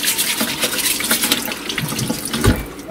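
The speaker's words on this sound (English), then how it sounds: "This is our running water" Tap water runs steadily into a sink while organic yellow potatoes are scrubbed with a brush. Close splashing continues throughout, with occasional thuds and handling knocks.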